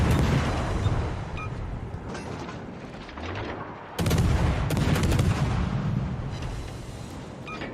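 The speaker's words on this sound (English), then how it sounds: "I'm going to get some main battery fire in" Battleship main battery guns firing in the naval game World of Warships, a dense rumbling barrage of heavy booms with a sharp fresh salvo about halfway through, loud and continuous with no talk.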